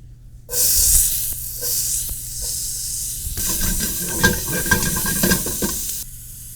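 Diced red peppers hit hot olive oil in a pan over medium-high heat and burst into a loud, steady sizzle, with the hiss continuing under occasional stirring.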